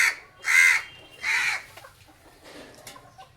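Chickens and crows at a feeding spot: two or three loud cawing calls up close, followed by quieter clucks and scattered bird sounds.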